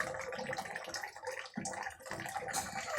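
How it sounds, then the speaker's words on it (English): Water runs steadily into a toilet cistern after a flush, a close, continuous splashing and hissing flow that fills the whole moment with slight surges in level. "Water is flowing now."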